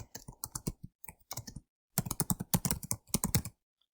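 Typing a business letter on a computer keyboard, close rapid key clicks in two quick bursts separated by a short pause, ending in silence.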